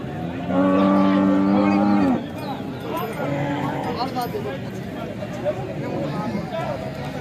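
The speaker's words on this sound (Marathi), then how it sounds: "चांगली गाई आहे" At a cattle market in Alephata, a cow gives one loud, drawn-out moo lasting about a second and a half. Crowd babble and people talking follow in the background.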